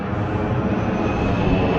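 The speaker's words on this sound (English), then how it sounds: "Sorry about the airplane." Airplane passing overhead on a cloudy, rainy day in Northwest Florida, a steady, fairly loud engine drone that holds level across the short stretch.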